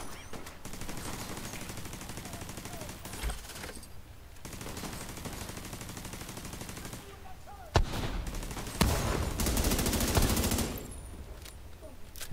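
Turret gunfire in the Division 2 video game rattles in dense, continuous automatic bursts, with sharp louder shots breaking through near the end and faint talk in the background.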